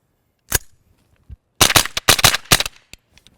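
A suppressed Banshee fires CCI Mini-Mag rounds in a quick string of sharp, muffled reports: one shot, a pause, then a rapid cluster of shots, close and loud, with no talk.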